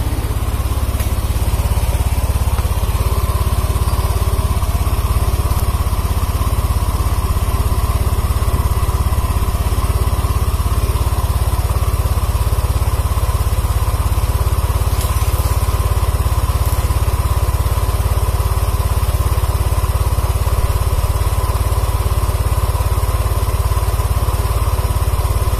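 A motorcycle engine is left running at idle, a steady, loud, continuous drone holding the same even tone throughout, with no talk over it.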